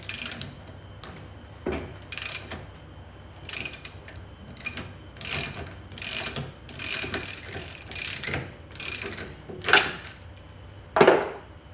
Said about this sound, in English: Release the piston rod assembly with the 10mm socket, clockwise.